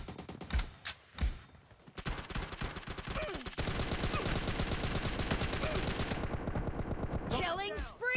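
PUBG Mobile gunfire during a team deathmatch: two isolated shots, then sustained rapid automatic bursts that rattle on for several seconds before cutting off, with faint game sounds at the end.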